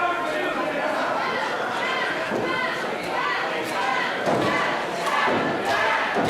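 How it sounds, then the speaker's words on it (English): Amid steady crowd chatter and cheering at an indoor wrestling show, a wrestler is slammed onto the mat in a sidewalk slam. Several dull thuds land against the noise, the last ones heaviest, while a commentator talks over it. "instead gets brought up for a sidewalk slam"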